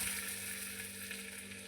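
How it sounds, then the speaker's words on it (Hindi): A tadka of cumin seeds, green chillies and curry leaves sizzles in hot oil in a pan for a Navratri fasting dish, a faint, steady hiss of frying with no voices. "ये हमारा तड़का तैयार हो रहा है।"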